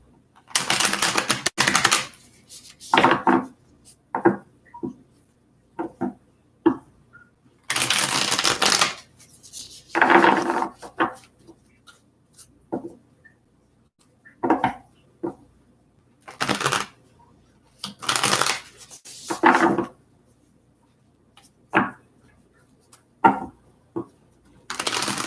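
Tarot cards being shuffled by hand in repeated bursts of riffling and flicking, each run lasting a second or two with short pauses between, close and crisp with no talking.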